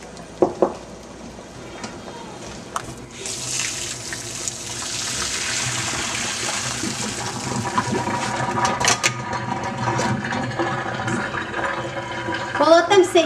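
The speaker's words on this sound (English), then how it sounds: "Now that the onion has come to a rapid boil, we'll drain it and allow the onions to cool." Boiled onions being drained in a kitchen, water pouring steadily for several seconds with splashing and clattering toward the end.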